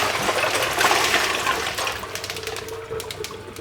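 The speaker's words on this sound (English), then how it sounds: "I do this by running the pan under cold water, and then I add ice to the pan" Cold water runs hard into a pan of just-cooked eggs, a loud rushing splash that eases off, followed by bright clinks and rattles as ice is dropped in.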